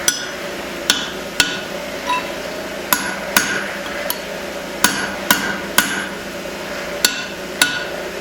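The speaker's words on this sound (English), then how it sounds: "If I keep driving the drift in this way, the cheeks I just put in are going to get flattened out." Hammer blows driving a steel drift into the eye of a small hand-forged hammer head, a dozen or so sharp ringing metallic strikes at an uneven working pace, loud and close with no talk.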